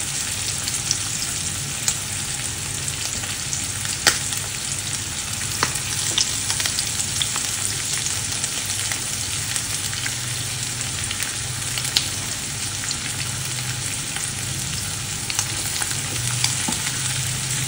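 Flour-dipped sparrow pieces fry in a hot pan, a steady, close sizzle and crackle with occasional sharper pops and no talking.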